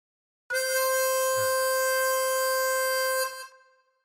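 A single harmonica note blown on hole four rings out loud and steady for nearly three seconds with rich buzzy overtones, then trails away, with no talking.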